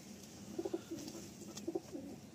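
A male Chotiyal Madrasi pigeon coos softly in two short bursts of low notes, faint and close, with no voices.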